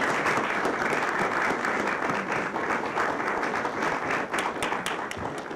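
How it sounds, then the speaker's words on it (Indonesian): A studio audience at an Indonesian comedy show breaks into dense, loud applause, with rapid overlapping claps that keep a constant level throughout. "Tepuk tangan."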